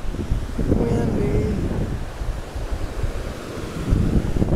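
Strong wind buffets the microphone in a continuous low rumble beside the Santa Cruz River in New Mexico, gusting throughout with a faint watery wash underneath.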